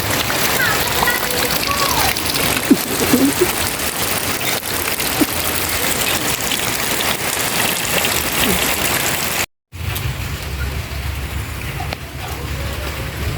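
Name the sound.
rain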